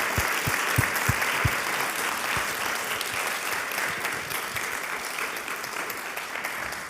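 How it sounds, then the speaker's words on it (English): Lecture audience gives a speaker a sustained round of applause, dense and even from a large crowd, with a few louder close claps at the start and no talking. "So if we could give a big round of applause to Professor Türk."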